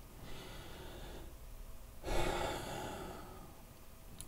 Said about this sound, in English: take a slow deep breath and relax